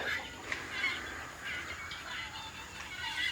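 Farm fowl on a Paraguayan farm, with honking and clucking calls heard at a moderate distance over a steady outdoor background hiss.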